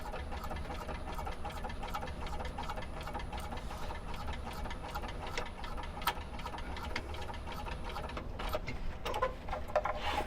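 Sewing machine back stitching a pouch, a continuous close mechanical whir with fast rhythmic ticking throughout, steady in level.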